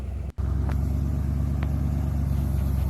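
A vehicle drives out of town toward a trailhead in snowy country, its engine and road noise forming a steady, close, droning rumble with a brief dropout near the start.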